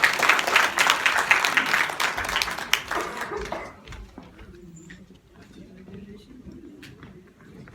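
Audience at an Urdu poetry mushaira in Australia claps to welcome a poet, a dense burst of applause for about three seconds that fades out, leaving a quiet room with faint shuffling.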